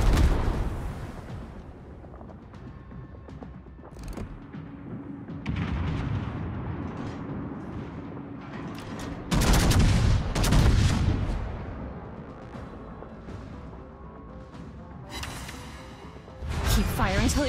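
Heavy naval guns of the battleship Vittorio Veneto booming in a naval combat game, several deep loud blasts spaced apart over a constant rumbling background, with voices speaking between shots.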